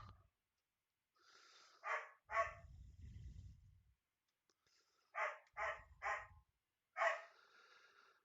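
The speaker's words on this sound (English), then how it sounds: "Dang dog is having a conniption on the other side of the door." A dog barks on the other side of a door, heard through it as sharp barks in bursts, a double bark then a run of three and one more, with low rumbling thuds between them.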